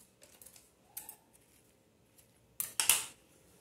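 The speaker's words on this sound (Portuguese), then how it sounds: "Deixa eu cortar aqui." Scissors snip the thread on a handmade fabric bow, a couple of faint crisp clicks early on, then a louder, sharper burst of snips near the end, close by with no talking.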